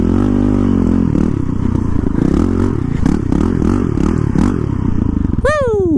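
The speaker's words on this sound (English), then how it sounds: "any dual sport motorcycle out there, I would absolutely take through all of this." A dual-sport motorcycle rides down a rough trail toward a river, its engine droning steadily with rhythmic throttle surges and scraping, clattering gravel, loud and close, ending in a brief rising whine.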